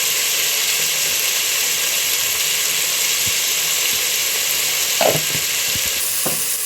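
Chopped onions and tomatoes with greens sizzle steadily in a pan while biryani is being cooked, a close, constant frying hiss broken by a few stirring scrapes and clinks toward the end.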